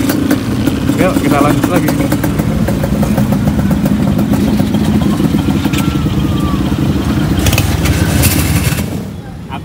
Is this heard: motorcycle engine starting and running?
yes